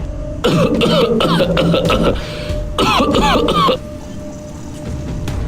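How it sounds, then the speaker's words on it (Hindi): An old man coughs and clears his throat in two harsh, rasping bursts, close by, with quieter room noise between them. "तभी दादाजी खांसने लगे"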